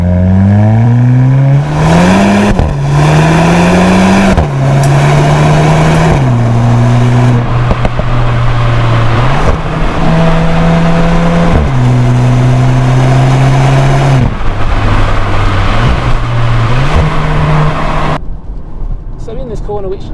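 A 2021 Mk8 VW Golf GTI engine pulls loudly and close while driving, rising in pitch through each gear and dropping at repeated upshifts over about eighteen seconds before easing off at the end.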